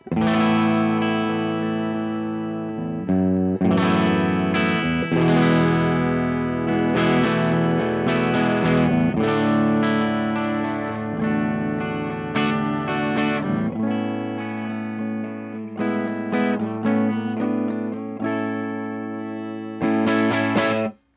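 An EVH 5150 Standard electric guitar on the bridge pickup, controls full, plays a run of chords and picked notes for about twenty seconds, bright and full, with a slightly effected, ringing tone.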